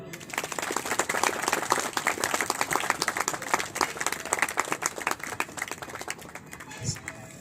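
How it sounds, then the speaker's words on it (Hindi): Crowd clapping at the inauguration of a utensil bank in a market, sustained and dense with a lively, slightly uneven patter, fairly close, with faint voices mixed in and a brief voice near the end. "सभी लोग ताली बजाएं"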